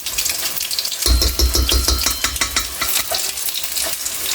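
Yogurt is stirred into a homemade biryani mixture in a rice cooker, with close, steady scraping strokes and a wet sizzling texture that begin after a quiet first second and keep going alone.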